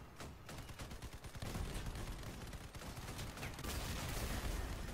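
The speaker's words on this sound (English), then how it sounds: "This guy using a shotgun has a fucking long range weapon." Shotgun blasts and rapid gunfire in a video game fight, dense and continuous with loud overlapping bursts that swell louder partway through, no voice audible.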